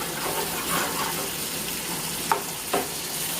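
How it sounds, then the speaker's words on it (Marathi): An onion-coconut masala sautés in coconut oil with a soft, continuous crackling sizzle, broken by a couple of faint stirring clicks near the end. "हा थोडासा मसाला आपल्याला खोबरं तेलामध्ये छानपैकी परतून घ्यायचं"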